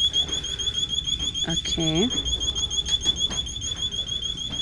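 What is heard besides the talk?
store security alarm going off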